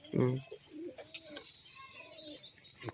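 A biscuit-coloured female pigeon in a loft gives a soft throaty coo near the start, followed by quieter murmuring calls with someone talking over them.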